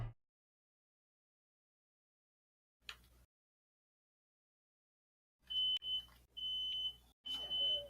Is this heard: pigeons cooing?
no